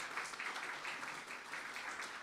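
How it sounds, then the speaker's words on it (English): Church audience applause during a Sunday service, a dense, steady wash of many hands clapping at moderate distance, continuous and fairly soft throughout. "Can the abundance team people just stand up and get a round of applause?"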